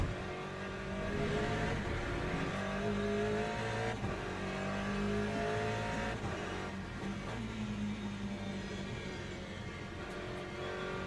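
A GT car and a hypercar race past in the Le Mans Ultimate sim at a wet Monza circuit, a steady high engine drone that rises and shifts in pitch with no pause.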